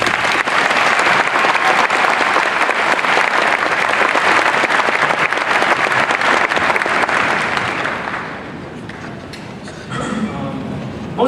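Graduation ceremony crowd breaks into sustained, loud applause for parents and guardians, a dense wash of clapping lasting about eight seconds before thinning out to scattered claps and murmuring.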